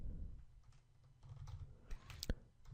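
Soft keystrokes on a computer keyboard while writing code, a handful of faint, scattered clicks with one sharper tap near the end, heard quietly and alone.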